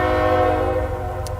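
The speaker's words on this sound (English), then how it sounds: "which I can hear the train right now," A passing train sounding its horn, a loud sustained multi-tone blast with a rumbling undertone that holds steady and eases slightly near the end, with no voices.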